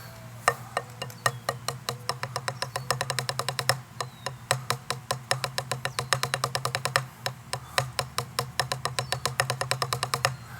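Drum finger control exercise of rapid sticking strokes, likely on a practice pad, moving between 16th and 32nd notes; a steady stream of sharp, close taps in even rhythm, with no talking.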